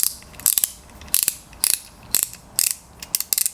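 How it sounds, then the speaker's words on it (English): Close ratcheting of a tubing cutter clamped on a pipe or fitting: bursts of quick metallic clicks come in short back-and-forth strokes at a steady rhythm, each stroke under a second, with no voices. "You can ratchet the cutter."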